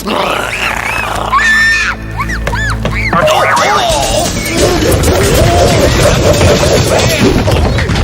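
A cartoon bird gives a burst of rising, warbling squawks and cries, loud and close, then a rough, noisy scuffle of clattering sound effects follows.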